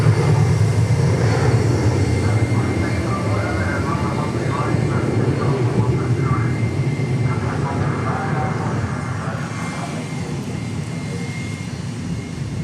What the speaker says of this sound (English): As we check out this Learjet.